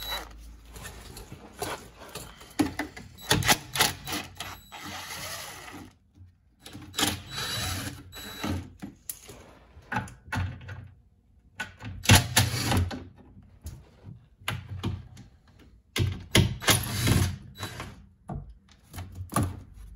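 Ratcheting and clicking from a tool backing out the 8mm bolts of a Chevrolet Cruze 1.8L engine undercover, in irregular bursts of close, mechanical ticking separated by short pauses.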